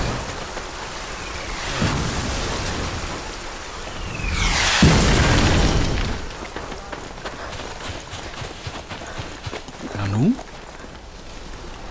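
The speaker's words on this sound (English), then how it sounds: "Mortar fire! I need cover!" Mortar shells explode during a Sniper Elite 3 battle, a loud rumbling blast swelling around the middle and a sharper burst near the end, over a noisy, rain-like wash of battlefield sound.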